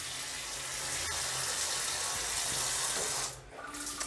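Tap water runs steadily in a bathroom while a UPVC window is washed, a close continuous splashing rush that briefly thins near the end before resuming.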